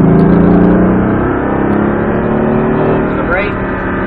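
A race car on a track accelerates with a loud, continuous engine drone. An instructor's voice talks over it.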